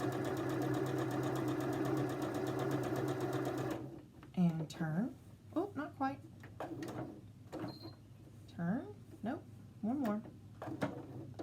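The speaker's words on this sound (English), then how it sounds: "And you can back stitch over that handle if you want." A sewing machine runs in a fast, steady close-up whir while back stitching a handle onto a towel to make face wipes. After about four seconds it stops, and someone talks.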